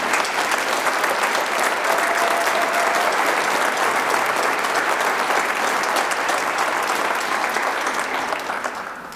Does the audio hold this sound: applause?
yes